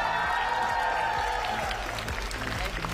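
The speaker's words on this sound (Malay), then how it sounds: "tepukan untuk Irfan Syamil." Clapping from the audience at a school innovation competition event, a steady moderate patter blended with a droning hum and a faint voice in the hall.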